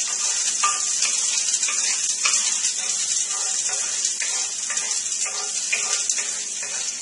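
Whole garden-fresh garlic cloves fry with rosemary in a pan, giving a steady, close hiss of sizzling oil with faint scrapes of stirring throughout and no talk.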